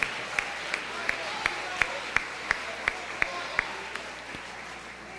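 A church congregation applauds, with crowd noise underneath and a single sharp clap repeating at an even pace, about a dozen strokes standing out above the murmur.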